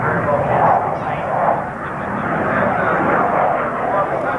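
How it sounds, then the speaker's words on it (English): An airplane performing a touch-and-go landing at a 1992 Bowling Green air show, its engine roaring loudly and steadily throughout with a slight rise and fall as it passes. "will perform a touch and go to our left over here. He has to do it on the runway."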